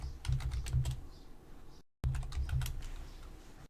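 Rapid keystrokes clatter on a computer keyboard in two quick bursts separated by a brief silence, close and fairly soft.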